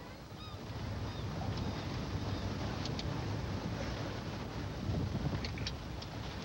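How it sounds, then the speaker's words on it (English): A faint, far-off power boat drones steadily, heard from aboard a Condor 40 sailboat amid constant wind and water wash, with no one speaking. "Do I hear a boat upwind of us? Power boat? Far away, no problem."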